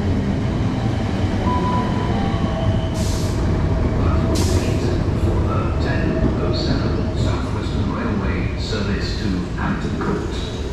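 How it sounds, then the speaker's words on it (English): A South Western Railway Class 455 electric train, unit 455713, pulls into a suburban London station on the Hampton Court line with a continuous rumble, hissing air brakes and short metallic squeals, loud and close, with a voice talking over it. "now here comes the 10:07 South Western Railway service to Hampton Court"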